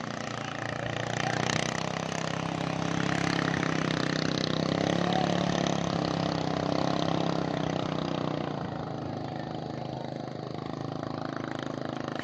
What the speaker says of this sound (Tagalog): Ayan po, binibreaking lang po yung makina.